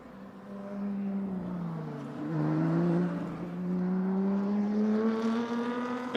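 Lotus race cars on a formation lap at the Nürburgring drone past at steady, moderate revs, the engine tone sliding up and down as the cars roll by at a distance.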